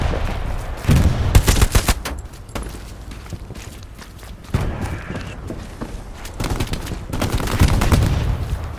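Video-game gunfire in an online shooter featuring M1 carbine and StG 44 rifles: loud bursts of rapid shots and single cracks come in clusters, with footsteps and quieter gaps between volleys.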